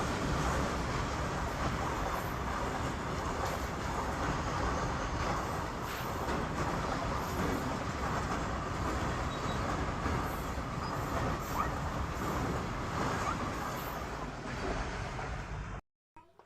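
A train rolls past a level crossing, a loud continuous rumble with rattling wagons and wheel clatter holding steady for over fifteen seconds before cutting off abruptly.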